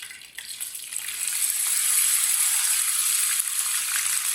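Half a kilo of chicken added to a pan with roasted cumin, giving a loud, steady, bright sizzle that swells within the first second and then holds unbroken.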